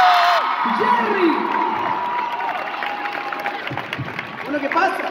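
Concert audience at an OT Madrid show, applauding, cheering and whooping as a singer is introduced; dense, continuous crowd noise with shouts rising over steady clapping.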